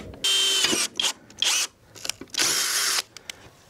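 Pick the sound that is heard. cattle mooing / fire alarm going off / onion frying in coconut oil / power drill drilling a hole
power drill drilling a hole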